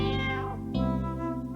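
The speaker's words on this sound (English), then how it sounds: "Jingles was a Christmas cat" A cat gives two drawn-out meows, one after the other, heard fairly close and alone without speech.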